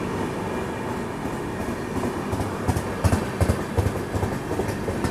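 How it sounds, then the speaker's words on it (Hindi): The 12669 Ganga Kaveri Express runs on rails between Bangalore and Dhanpur, a steady loud rumble of the moving train with rhythmic wheel clacks growing more pronounced midway, and no voices. "बैंगलोर से धानपुर जाने वाली ट्रेन।"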